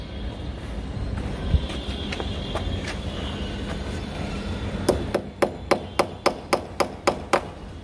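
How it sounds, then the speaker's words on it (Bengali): Nails are hammered into netting on a rooftop trellis, first scattered knocks amid background noise, then a steady run of about ten sharp, evenly spaced strikes close by. "ওই গ্যাপগুলো ফিল আপ করার জন্য আবার এই পেরেক দিয়ে পেরেক মারা হচ্ছে নেটটার উপর"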